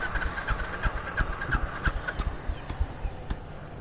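A Royal Enfield motorcycle engine idles nearby with a steady low thumping rhythm, its regular pulses repeating about every third of a second without any voices.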